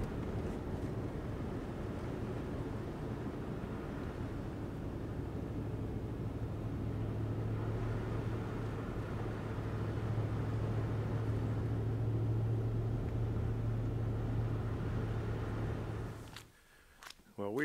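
A car grinds steadily along a snowy, foggy mountain road in four-wheel drive, a low constant engine and road rumble heard from inside the cabin, ending abruptly with a few clicks.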